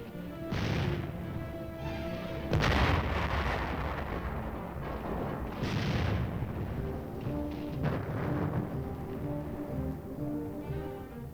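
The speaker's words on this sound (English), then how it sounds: "artillery continued to chase the enemy" Artillery fire from Korean War-era archival film rolls in as several heavy booming blasts spaced a few seconds apart, over a steady tonal music bed and a constant rumble.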